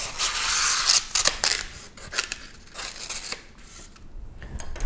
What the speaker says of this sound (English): I cut my foam